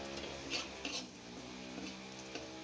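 Liver dry-frying in a pan, stirred steadily with a spatula: a continuous soft sizzle with scraping strokes and a few metallic clinks against the pan, close up, with no voices.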